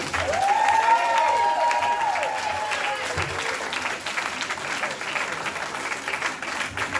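A stand-up comedy audience at a show in Austin, Texas claps and cheers, with a high whoop rising over steady, full applause that gradually thins but keeps going to the end.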